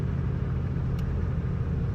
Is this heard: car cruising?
yes